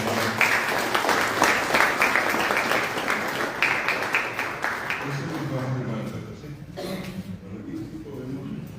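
An audience claps at a ceremony signing an agreement between a Guaraní language and culture institute and a symphony orchestra. The clapping is busy and moderately close for about five seconds, then fades as a few coughs and murmurs and some talk follow.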